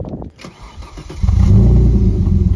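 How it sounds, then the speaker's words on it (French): An Alfa Romeo 166 with the Busso V6 engine cranks and catches about a second in, then settles into a loud, close, rumbling idle. "Va me faire un petit démarrage, je filme ce fucking pot d'échappement"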